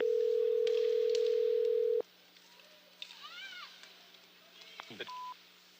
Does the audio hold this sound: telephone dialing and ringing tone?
yes